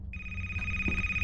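Mobile phone in a video game ringing with a steady electronic tone that starts abruptly and holds for about a second over a low rumbling background, clear and close.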